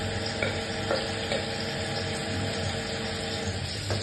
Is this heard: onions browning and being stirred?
yes